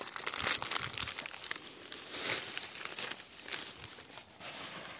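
A plastic bag of litter is picked up on a mountain trail near Almaty: continuous close crinkling and rustling of thin plastic with brief crackles, fairly quiet, and no talking.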